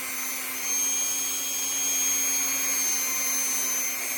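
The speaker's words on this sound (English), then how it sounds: "You're just gently gliding over it and buffing the surface of it." A small power buffing tool whines steadily as it is gently glided over the surface of a polymer clay pendant, producing a constant high mechanical hum with slight swells and no talk.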